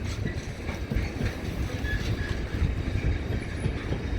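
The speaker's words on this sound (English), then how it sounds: "And here comes my train to Grantham." An LNER Azuma train arriving on the service to Grantham, a steady rumbling roll with rhythmic wheel clatter on the rails, close and fairly loud throughout with no talk.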